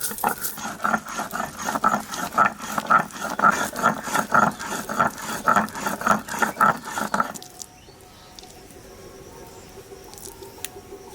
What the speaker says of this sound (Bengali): প্রথমেই বাটবো সাদা সরষে আর কালো সরষে।